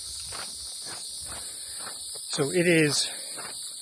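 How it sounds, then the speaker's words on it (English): Loud insects drone steadily along the Florida Trail, a constant high buzzing chorus that runs under footsteps and a person talking. "Just listen to all these bugs. It's so loud."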